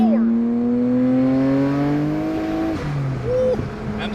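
A 1,000 hp Toyota Supra engine revs on the street. A loud, droning engine note holds and then drops, followed by brief crackling pops and a short blip of throttle near the end.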